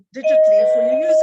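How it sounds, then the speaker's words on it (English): A household doorbell rings once with a clear sustained electronic tone, close and loud, cutting in over a person speaking during an online discussion. "that's my doorbell going."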